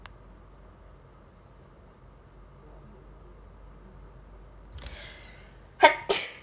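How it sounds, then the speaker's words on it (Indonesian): Repeated sneezing during a live stream, two sharp, loud sneezes close together near the end after a quieter stirring sound, otherwise near silence. "Aduh, sumpah bersin mulu"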